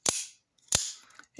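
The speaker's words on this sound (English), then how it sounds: "you're just hearing blades hit." Two sharp snapping clicks from a Lightning OTF out-the-front knife as the blade fires and strikes home, each a loud close crack followed by faint mechanical rattling, with a brief third click at the end.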